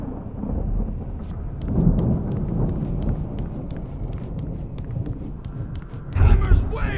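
Thunderstorm in the game Alan Wake Remastered, a steady rumble of rain and wind with a loud crack of thunder near the end, heard under someone talking.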